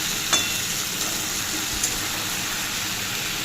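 A vegetable curry of beans, potato and eggplant cooking in a pan, a continuous bright sizzle and hiss with a few faint stirring clicks, no talking.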